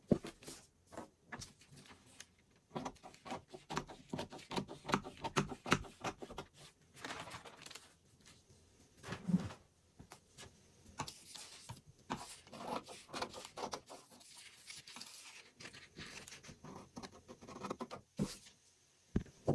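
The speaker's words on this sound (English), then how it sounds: "Then let's cut the fabric." Scissors cutting fabric for dart manipulation in sewing: soft, irregular snips and rustling of cloth, faint and close, in uneven bursts with pauses between them.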